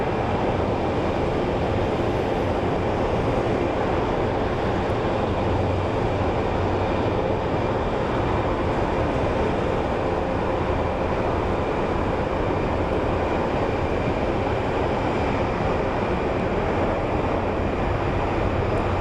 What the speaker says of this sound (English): And we have a Delta Airlines 737 coming in.